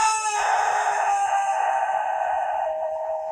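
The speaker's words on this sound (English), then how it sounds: "That's the sickly call of a rooster." A rooster crows once on a farm in Turkey, a long strained and somewhat sickly-sounding call lasting about three seconds, close and clear with no talking.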